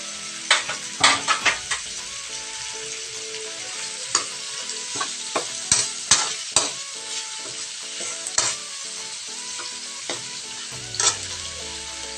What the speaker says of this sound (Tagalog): ang paggisa nyo sa kamatis guys, palabasin nyo yung katas niya para masarap